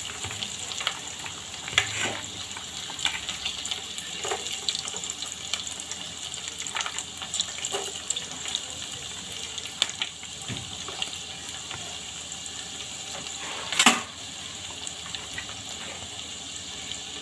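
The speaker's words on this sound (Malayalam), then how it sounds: "ഈ എണ്ണയിലേക്ക് നമുക്ക് കടുകിടാം." Mustard seeds sizzle and crackle in hot oil for a Malayalam-style anchovy pickle. The steady frying hiss runs throughout, with scattered pops and a sharper burst near the end. There is no talk.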